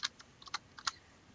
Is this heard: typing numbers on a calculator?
yes